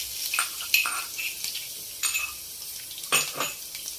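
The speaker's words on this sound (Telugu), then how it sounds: "ఆయిల్ వేడైందండి. వెల్లుల్లి వేసుకుందాం." Garlic hits hot oil in a pan: a steady sizzle with scattered metallic clinks and scrapes of a utensil against the pan, fairly close and with no talking.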